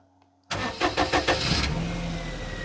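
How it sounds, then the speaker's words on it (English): A Perodua car's engine starts for the first time after repairs: a few rhythmic starter cranks, then it catches and settles into a steady, slightly high idle, close and clear with no voices. "First start."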